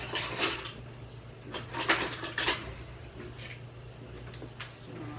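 A wooden spoon fetched from among kitchen utensils in a home kitchen, with several light wooden and metal clatters and rattles in quick bursts, fairly close and quiet.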